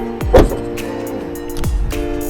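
The hood of a 2013 Toyota Prius V is shut, with a solid thump near the start followed by a second thud a moment later, close up with no talking.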